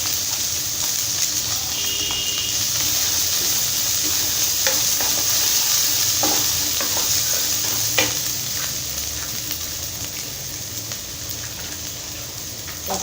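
Chopped onion frying in a pan and being stirred, a steady close sizzle with occasional scrapes and taps of the spoon, no voices.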